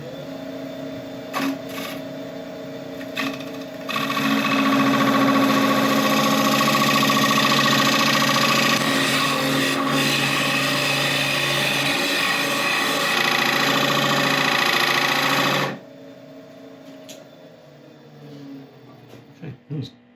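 Wood turning beads on a lathe with an 8 millimeter tool: a loud, steady cutting whir for about eleven seconds, with the motor humming quietly before and after.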